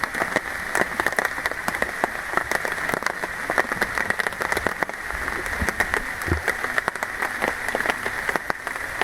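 Light rain falls in a forested national park, a steady dense patter of drops on surfaces, close and even throughout with no voices.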